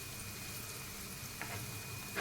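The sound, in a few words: paneer pieces pan-frying on both sides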